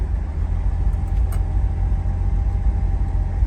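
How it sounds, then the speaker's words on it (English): A 1962 Chevrolet Nova six-cylinder engine runs at a steady idle, a loud, low rumble held close and unchanging. "Six-cylinder runs like a charm"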